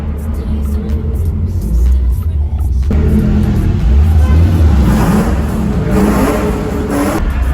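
Cars rumble and rev while driving slowly through a street car meet in Cape Town, a steady close engine drone with a sharper surge of revving midway and continuing crowd-level noise throughout.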